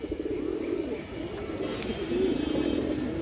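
A pair of domestic pigeons, paired for flying, coo steadily and close by in a low, rolling murmur, with faint chirps in the background.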